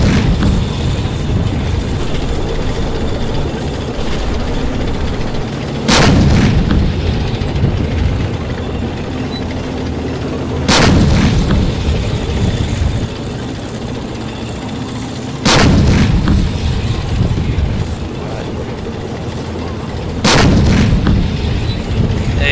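Heavy tank cannon blasts in a video game, four loud booming shots at roughly five-second intervals, each followed by rumbling collapse of destroyed housing over a continuous low engine drone.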